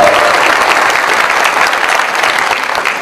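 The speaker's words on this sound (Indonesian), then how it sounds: "Kita beri tepuk tangan untuk mereka yang menyiapkan acara." A large crowd of young people at an inspirational speech event claps loudly and continuously, a thick, even wash of applause that holds throughout and eases slightly toward the end.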